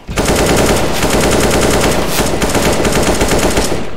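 An AK-47 in Counter-Strike: Global Offensive fires a loud, sustained burst of automatic gunfire from start to finish.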